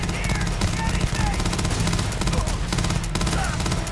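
Continuous, dense gunfire in the game Starfield, loud and close, with rapid overlapping shots and some faint voices mixed under the clatter.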